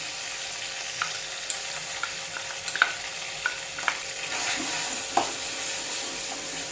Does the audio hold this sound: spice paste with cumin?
yes